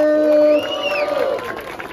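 A rap battle crowd cheers and whistles for the MC Mano Vitor, a loud burst of shouting that eases slightly after half a second and continues as steady crowd noise.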